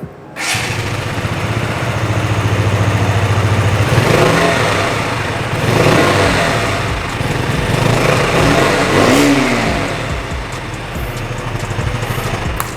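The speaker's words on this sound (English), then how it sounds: "And now it's time to make you hear the exhaust note." KTM Duke 125 single-cylinder 125cc motorcycle with an underbelly exhaust, started up and revved: a steady, loud close-up engine note with a few throttle blips rising and falling over a continuous idle.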